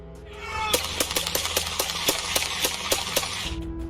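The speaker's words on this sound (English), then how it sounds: "you can hear the gunshots ring out" A rapid string of sharp, loud bangs, about a dozen evenly spaced shots in quick succession, over a low background hum.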